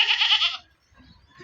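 A goat gives one loud, close, wavering bleat that lasts about half a second. Quiet rustling and faint background noise follow.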